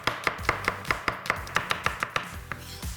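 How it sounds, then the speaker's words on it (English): A knife thinly slicing onions on a cutting board makes a steady run of about a dozen crisp, close chopping taps that slow slightly toward the end. "Here I have 2 onions and I want to thinly slice them."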